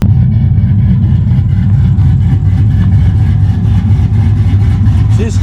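A pickup truck engine idles with a choppy, lopey cam, a loud, close, uneven low rumble pulsing steadily throughout without any talking.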